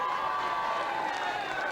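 A crowd at Alton Towers claps and cheers steadily for a strongman event winner, a dense wash of applause that stays loud and even throughout, with a voice over it.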